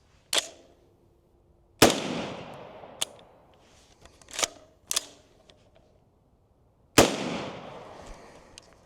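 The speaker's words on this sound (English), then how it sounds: "Here's an unsuppressed subsonic baseline on gas setting 1." Unsuppressed subsonic gunshots from a rifle on gas setting 1 with an H3 buffer, a handful of sharp cracks spaced unevenly over several seconds, each decaying quickly, with faint clicks between.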